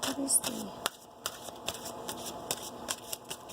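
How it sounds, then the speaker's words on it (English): Tarot cards being laid out: soft, crisp snaps and slides of cards placed one after another at a steady, unhurried pace, close and quiet, with a brief voice at the start. "I'm going to put the cards out and then tell you"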